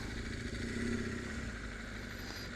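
Motorcycle engine running steadily nearby while the rider pulls over near the Jamsu Bridge in Seoul, a continuous mid-pitched rumble with no clear revving, loud and alone throughout.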